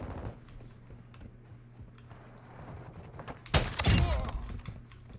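An SA-B 50 sniper rifle fires once in Modern Warfare II: a single loud, sharp crack with a short ringing tail bursts out of quiet background noise.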